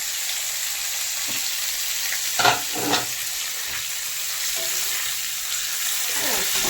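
Mushrooms and cauliflower brown in hot oil with a steady close sizzle, broken by a couple of louder stirring scrapes partway through; no one talks.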